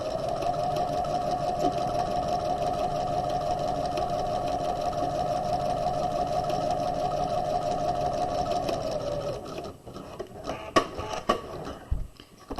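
A sewing machine stitches down the side seam of a tote bag lining, a steady loud motor whir with rapid needle rhythm running for about nine seconds, then stopping into a few scattered handling clicks and thumps.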